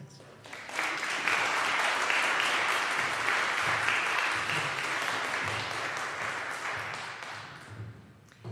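Congregation applauding musicians after a song at a healing service, clapping swelling quickly to a full steady roar of many hands, then slowly thinning and fading out near the end.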